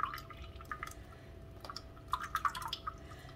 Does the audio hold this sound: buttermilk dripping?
yes